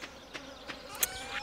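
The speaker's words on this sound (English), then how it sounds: "I can still hear the bees. They're getting closer." Bees in the Stardew Valley video game give a steady insect buzz, with a few brief sharper accents over the drone and no speech.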